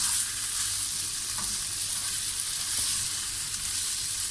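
Potatoes being stirred into frying spices in a pan for aloo samosa filling, a steady close sizzle and hiss with soft stirring scrapes throughout, no voices.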